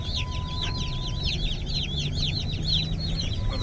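Day-old meat chicken chicks cheep in a steady flurry of high, rapid peeps, many birds close together, over a constant hum of a heater on a snowy day.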